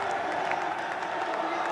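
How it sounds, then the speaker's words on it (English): Crowd applause and cheering at the FIFAe World Cup 2023 esports event, a steady wash of clapping and cheers filling the arena at moderate level, with a commentator talking over it. "Once again getting the crowd off their feet."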